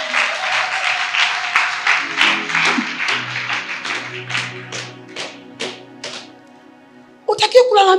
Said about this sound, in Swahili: mpigie Mungu makofi kabisa